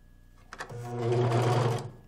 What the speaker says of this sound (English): So I'm going to start by putting my elastic under the serger.